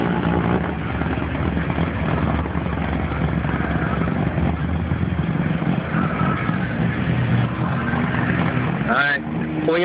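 Two Nissan GT-Rs, a Jotech Motorsports stage one car and a 2012 GT-R Black Edition, race side by side at a drag strip, a loud sustained engine roar filling the whole stretch with a brief shift in tone near the end.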